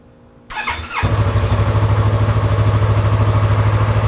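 A Yamaha R3 motorcycle, freshly repaired after an engine case cover replacement, cranks with a brief whirring starter and catches, then settles into a loud, close, steady idle with an even pulsing beat and no talking.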